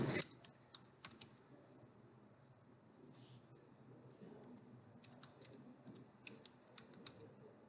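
Quiet clicking of computer keyboard keys while software settings are set up, with scattered irregular taps and short bursts of keystrokes over a faint room hum.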